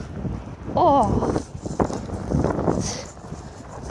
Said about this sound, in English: God, it's really windy.